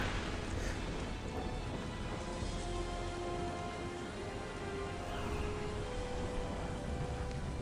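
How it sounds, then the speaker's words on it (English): A storm at sea on a boat in Prince of Persia: Warrior Within: steady, dense rain hiss over a low rumbling wash, continuous and enveloping with no voices. "This storm shows us no mercy."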